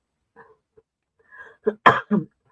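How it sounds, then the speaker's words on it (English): A few close coughs in quick succession, with one louder harsh cough in the middle, preceded by faint quiet mumbling. "sorry, I have a cough."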